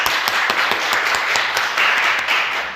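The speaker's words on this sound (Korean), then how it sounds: "우리 김희정 원사님하고 우리 천영은 자매님에서 우리 박수 한번 드리도록 하겠습니다." A church congregation applauds during a Sunday worship service, a steady wash of many hands clapping at close range that holds evenly throughout, with no talk over it.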